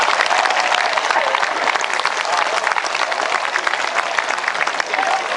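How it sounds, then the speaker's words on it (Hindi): An audience at a Hindi kavi sammelan poetry gathering gives a round of vigorous, dense clapping. It stays loud and steady for over five seconds with a few voices mixed in. "फिर आपकी तालियां चाहूंगा"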